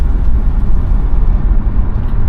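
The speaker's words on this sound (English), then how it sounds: "Exhaust, which we'll put on the rack once we get back, sounds good" A 1990 Cadillac Brougham's exhaust rumbles low and steady while driving, a loud, continuous drone with slight swells and no talk.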